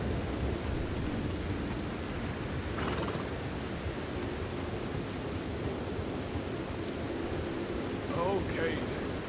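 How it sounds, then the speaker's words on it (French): Steady heavy rain with rumbling thunder in the Red Dead Redemption 2 video game, a continuous broadband wash of downpour throughout, with brief faint sounds surfacing near the end. "il fait froid, il pleut"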